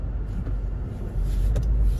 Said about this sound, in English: look at all this traffic here